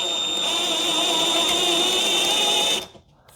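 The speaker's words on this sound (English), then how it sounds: "Drill." A power drill drives a screw into a drywall anchor, giving a steady high whine for nearly three seconds before cutting off abruptly into quiet.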